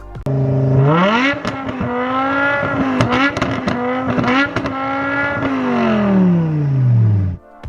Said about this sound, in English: behind the wheel that engine note won't at least make you think of F1 cars of old